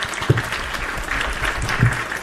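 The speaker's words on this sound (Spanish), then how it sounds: "Vamos a recibirla con un fuerte aplauso." Audience applause welcoming a guest at a women's New Year event, a steady wash of clapping from a modest crowd, fairly close, with a few louder claps.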